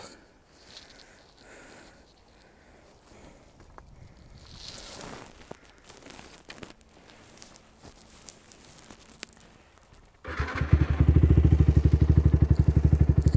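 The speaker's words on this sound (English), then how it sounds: "So we'll get the bike fired up." A motorbike fired up outdoors at an abandoned WW2 munitions depot: after some quiet rustling and handling, the engine catches near the end and settles into a loud, close, steady idle with no talking.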